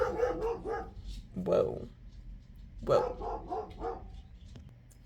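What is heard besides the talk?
dog barking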